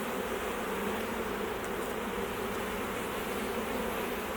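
A bee swarm is being put into a hive box, giving a dense, continuous buzzing drone of many bees close by with no talking.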